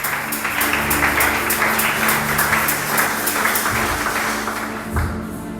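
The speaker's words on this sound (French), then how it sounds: "est-ce qu'on peut acclamer pour l'Éternel fortement?" A church congregation at a revival night bursts into sustained, loud applause with rapid clapping that swells and holds steady, with a few cheers mixed in and a brief thump near the end.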